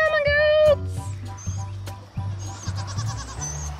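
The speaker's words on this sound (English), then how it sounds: "Come on, goats!" Goats, including young kids, bleating on a summer farm, with one long loud bleat up close followed by shorter calls and scattered hoof and movement noises while a person calls out to them.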